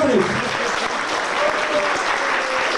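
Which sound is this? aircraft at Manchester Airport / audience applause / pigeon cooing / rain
audience applause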